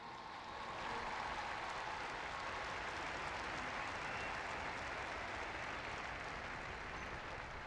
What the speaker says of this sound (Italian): Ma un applauso ai catechisti, a tutti.